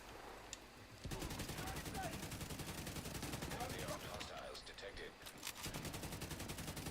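Sustained automatic gunfire rattles in a TU16 PTS shooter game, rapid bursts starting after a second of quieter sound, briefly easing near the fifth second before resuming, with a voice talking faintly underneath.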